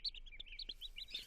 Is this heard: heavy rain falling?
no